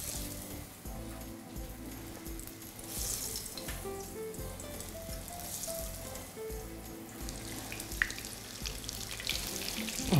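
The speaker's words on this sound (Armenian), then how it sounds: "հարկավոր է երկու կողմից տապակել։" Eggplant slices fry in a pan, a continuous soft hiss and crackle that stays fairly quiet, with faint tonal hum beneath and a small clink near the end.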